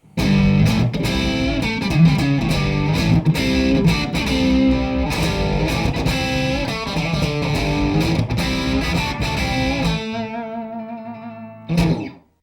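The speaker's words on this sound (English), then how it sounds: "And finally, the sound of humbuckers." Full, warm electric guitar through a Seymour Duncan P-Rails pickup in humbucker mode chugs through a steady riff with light distortion, closing on a sustained chord and a short final strum.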